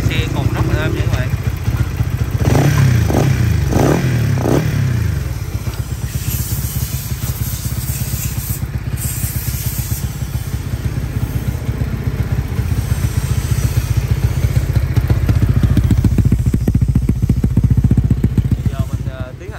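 A Honda Winner 150 motorcycle engine tuned to a 65 setup runs smoothly at close range with a steady, even idle that rises slightly later, while someone talks over it.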